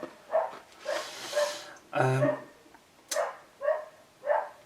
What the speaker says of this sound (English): I've no idea who's got a dog that's barking.